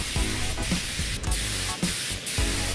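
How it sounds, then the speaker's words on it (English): A small mini spray gun hisses in short repeated bursts, spraying chrome paint over gloss black on a helmet, a harsh airy spray starting and stopping several times close up. "I'm using a mini spray gun."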